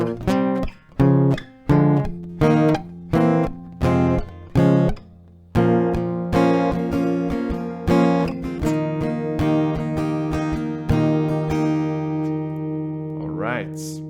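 Steel-string acoustic guitar plays the bridge of a song a little slower: several separate strummed chords with short gaps, then sustained, ringing chord strums that fade, close and clear, no voice.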